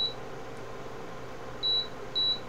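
Kitchen timer goes off while poaching eggs, sounding a few short, high electronic beeps, one at the start and two close together near the end, over quiet kitchen hum.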